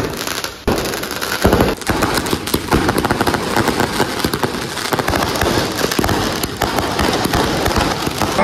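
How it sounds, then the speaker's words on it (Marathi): Diwali firecrackers going off nearby, a loud, dense string of rapid crackling pops that bursts continuously for several seconds. "आता फटाके लावतो"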